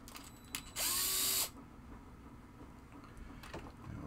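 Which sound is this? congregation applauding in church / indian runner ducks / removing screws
removing screws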